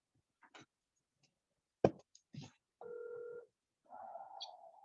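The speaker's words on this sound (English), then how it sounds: "I think Lou's gonna call. Dialing now." Telephone dialing tones sound over a speakerphone as a call is placed, with a few faint clicks and a sharp knock, then two short sustained tones in a quiet room.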